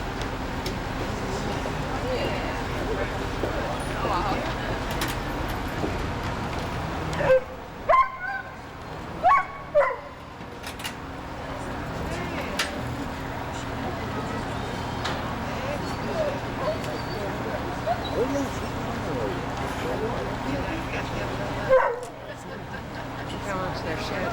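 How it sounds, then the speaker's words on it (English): Sled dogs in Alaska bark and yip in a few sharp bursts at a winter run with a tangled team, heard over steady outdoor noise, with a voice talking at times. "She's going to have to tie that sled up there to the tree and then check that dog out here."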